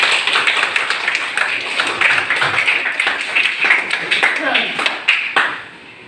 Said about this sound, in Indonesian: Maka kita berikan tepuk tangan untuk kita sendiri.